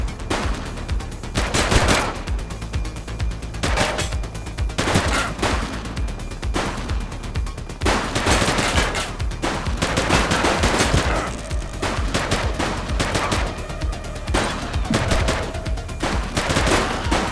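Police officers firing at armed suspects in the open-world crime game The Precinct, heard as sustained, loud rapid gunfire with dense bursts of automatic shots and repeated single reports that continue nonstop throughout.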